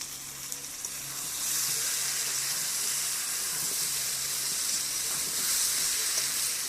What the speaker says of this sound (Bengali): আস্ত রসুন দিয়ে দিচ্ছি।